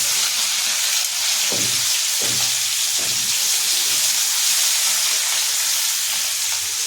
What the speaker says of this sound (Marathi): लसूण आणि मिरची टाकायची.